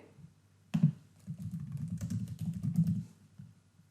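A short run of computer keyboard typing, a burst of quick muffled taps lasting a couple of seconds after a sharper first click, close by, with no talking.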